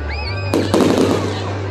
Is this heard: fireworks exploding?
yes